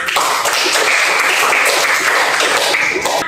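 Schoolchildren in a classroom clap together in a dense, continuous burst of applause at close range, bright and even from start to finish.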